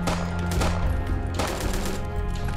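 Rapid automatic AK-47 gunfire from the blocky open-world video game Block Warriors, bursts of sharp shots rattling steadily through the clip over a low droning game background.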